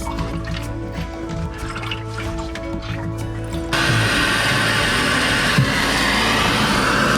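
Water drips and trickles into a toilet tank in a home plumbing repair, a steady wet patter with low hum that grows louder and denser partway through, close and continuous.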